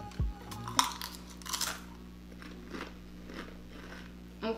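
Someone biting into the One Chip Challenge chip, the world's hottest chip, giving a few close, crisp crunches followed by quieter chewing, with no talk over it.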